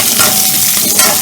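Onion, garlic and fresh turmeric sizzle loudly in a pan while being stirred, a close, continuous frying hiss with faint scraping.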